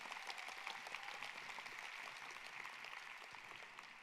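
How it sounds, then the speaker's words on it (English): Conference audience applauding, a dense, steady patter of many hands clapping that slowly tapers toward the end, heard alone without talk. "Let's give them another clap."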